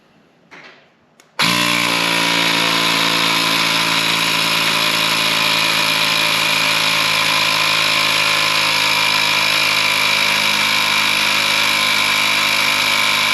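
An electric tire pump kicks on after a moment of quiet and runs steadily, a loud, close, buzzing motor drone with a constant mechanical whine that holds unchanged to the end.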